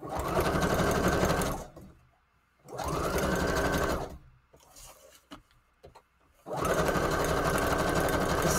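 A sewing machine stitches fabric in three loud sustained bursts, each a steady mechanical drone that stops abruptly, with quiet pauses and small handling taps in between.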